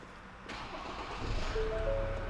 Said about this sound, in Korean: 짧게 시동 한번 걸어보겠습니다.